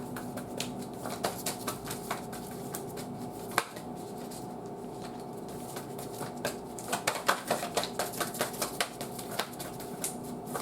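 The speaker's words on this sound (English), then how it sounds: "2 more shuffles and I'll pull from the top." Tarot cards being shuffled in quick bursts of soft, papery riffling and tapping, close by, with short pauses between shuffles and no talking.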